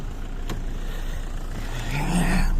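An Opel Vectra diesel car engine idles roughly and then revs up near the end, a close, steady mechanical rumble that rises in pitch as the throttle opens.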